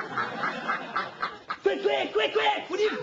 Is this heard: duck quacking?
yes